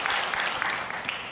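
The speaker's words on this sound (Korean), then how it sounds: "다시 한번 큰 박수로 격려합시다" Church congregation gives a big round of applause in encouragement after a dawn service performance, a brief, steady wash of clapping with a faint voice underneath.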